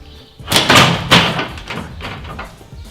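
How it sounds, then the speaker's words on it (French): An old door being taken off during a renovation produces loud close thumps and wooden knocks, a few heavy bangs followed by lighter scraping and tapping. "Seconde étape, enlever l'ancienne porte,"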